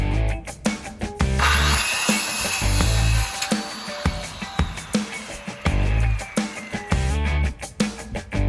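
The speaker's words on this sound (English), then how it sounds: "Time to get some 2x4s cut." A power saw cuts 2x4 boards for a hay feeder on a homestead, with repeated loud whining cuts broken by short gaps, knocks and clatter of lumber close by.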